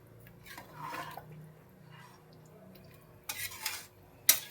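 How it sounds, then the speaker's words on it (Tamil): Rice, water and masala being stirred in a pot for seeraga samba mutton biryani: soft swishing and a few clinks of a spoon against the metal pot, quiet and close, with a sharper knock near the end. "இந்த அரிசி போய் அந்த தண்ணியோடையும் அந்த மசாலோடையும் நல்லா மிக்ஸ் ஆகிற மாதிரி கலந்து விட்டுக்கிறோம்"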